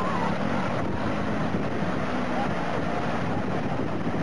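A swollen monsoon flood torrent in India, strong enough to sweep away a motorcyclist, rushes in a constant broadband roar, with a voice talking over it.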